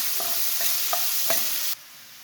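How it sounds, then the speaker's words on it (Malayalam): Tomato, carrot and capsicum sauté in hot oil in a pan for kothu chapathi. A loud, dense sizzle runs with several spatula knocks and scrapes, then cuts off abruptly to a quiet hum. "തക്കാളി ഇട്ട് കൊടുക്കാം, ക്യാരറ്റ്, ക്യാപ്സിക്കം ഒന്ന് നല്ല വഴറ്റിയെടുക്കാം."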